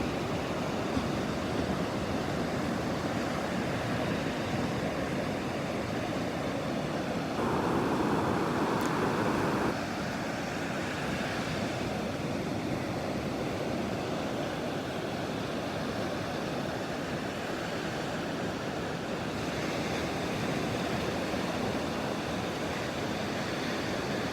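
Ocean waves and surf at high tide on a foggy winter morning at Pawleys Island, a continuous loud roar of breaking water mixed with wind buffeting the microphone.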